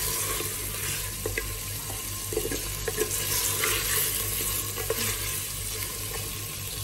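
Mutton sautéing in a pan, a dense continuous sizzle with occasional soft stirring knocks, steady and close, no voices.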